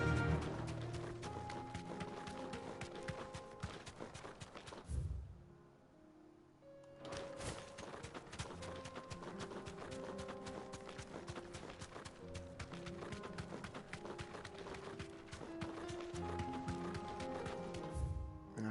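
Chocobo mount running in Final Fantasy XVI, steady rhythmic footfalls pattering under game music, with a brief pause before the gait resumes.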